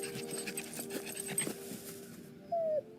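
A puppy pants rapidly in a steady rhythm at close range, ending with a brief high whimper.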